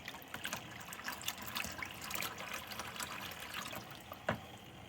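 Water drains and trickles from a radiant floor heating loop as it is filled and purged of air, a steady close splashing flow with brief gurgles.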